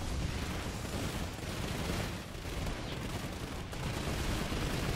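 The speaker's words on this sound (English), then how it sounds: "Just keep the suppressive fire on the turrets" Sustained video-game gunfire, suppressive fire poured onto turrets during a point-defence round, a dense continuous rattle of shots and booms filling the whole span at steady loudness with no clear talk.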